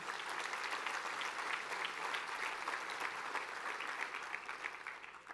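A church congregation claps together during a Christmas service, sustained and even, with individual hand claps faintly distinguishable in a soft, fairly distant wash.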